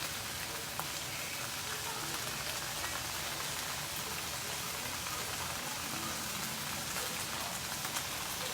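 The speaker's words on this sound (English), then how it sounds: "You don't need to do anything except rinse them very, very well." Keto spaghetti noodles rinsed under running water, a steady broad rushing spray that holds even and continuous throughout, moderately quiet and close.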